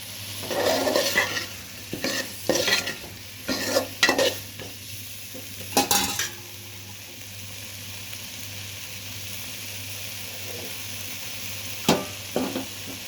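Eggplant and chili being fried and stirred with chopped tomatoes in a pan, irregular scraping and clattering strokes over a soft sizzle, dense at first then sparse, close and without talk.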